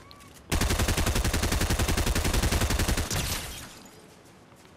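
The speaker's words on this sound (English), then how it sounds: "I had to shoot him, he was going to shoot me, mate." Rapid automatic gunfire from Fortnite on PS5, a loud sustained burst of evenly spaced shots lasting about two and a half seconds, followed by a fading rumble and a short quiet tail.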